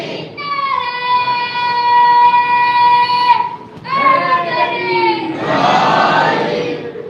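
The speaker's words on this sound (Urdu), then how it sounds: "سب مل کے نعرے کا جواب دے دیں۔" Crowd at a Shia majlis chanting a religious slogan in loud unison response, two long sustained chants with a brief break between, many voices blending into a tonal roar.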